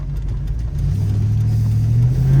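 A 450hp cammed truck with fresh headers, exhaust and a replaced header gasket accelerates hard. Its close, loud engine note climbs steadily in pitch and volume, with no talk.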